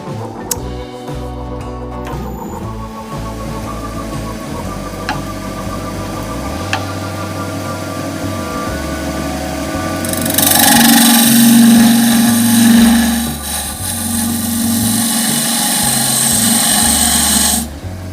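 A wood lathe turns a sacrificial glue block with a tenon being cut, a steady motor drone throughout with louder, rougher cutting noise swelling midway and then easing.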